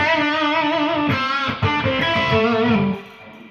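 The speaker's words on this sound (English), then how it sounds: "you can turn the distortion up with the preamp" A distorted electric guitar through a Soldano SLO Plus preamp pedal plays a short, thick, saturated riff, ringing out before cutting off near the end.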